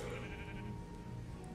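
A sheep bleats in the Minecraft game, a steady, fairly loud call sustained across the short moment with no talk over it.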